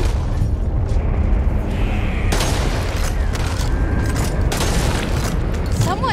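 Explosions and gunfire in the zombie shooter Back 4 Blood, a dense, loud stretch of booming blasts and rumbling bursts with intermittent shouting voices over the chaos.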